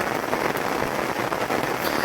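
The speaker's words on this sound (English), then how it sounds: "In fact, it was torrential rain." Torrential summer rain pours down on a British garden, a dense, continuous patter of drops hammering surfaces, loud and close with no pauses.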